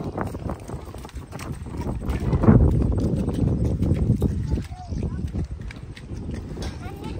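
A Marwari horse walks into a river, its hooves clip-clopping irregularly on wet ground and splashing near the shallows, while people talk nearby throughout.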